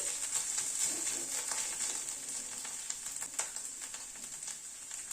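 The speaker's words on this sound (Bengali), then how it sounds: "আদা বাটাটা দিয়ে আবার একটু ভেজে নিচ্ছি।" Ginger paste fries in a pan for an egg Schezwan curry, giving a steady, close sizzle with light crackle and occasional stirring scrapes, and no voices.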